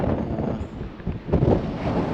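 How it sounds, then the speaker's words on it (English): Steady outdoor wind buffets a microphone, a dense continuous rumble with a stronger gust swelling around the middle, no voices present. "It's windy, but it's not actually too bad."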